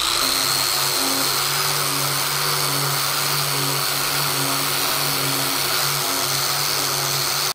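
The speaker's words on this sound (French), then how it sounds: "les brosses coupes sont parfaites pour dérouiller les tôles plates" Drill spinning a wire cup brush across flat sheet metal to strip rust, a loud, steady whirring grind with a constant motor hum that runs without a break.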